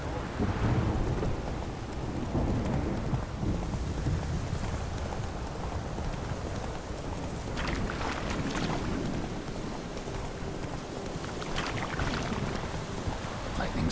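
Heavy rain pours steadily through a thunderstorm in the video game The Witcher 3, with low rumbling thunder rolling underneath and brief brighter crackles of lightning, a dense continuous wash with no talking.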